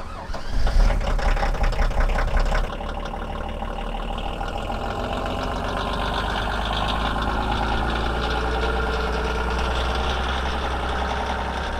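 A diesel vehicle engine cranks and catches after glow plug preheating, a loud rough burst settling into a steady, close idle rumble with a faint knocking character.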